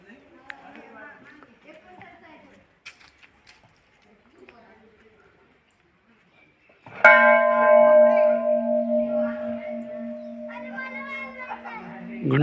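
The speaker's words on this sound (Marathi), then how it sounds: "माऊली घंटा वाजत आहे" A large temple bell rings out at the Shri Shambhu Mahadev temple, loud and sustained with a long shimmering hum, beginning abruptly after a stretch of quiet chatter and children's voices in the background.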